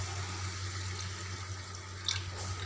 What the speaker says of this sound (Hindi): तो अब इसमें हम पानी डाल देंगे। आपको जितना ग्रेवी चाहिए उतना पानी डाल दीजिए।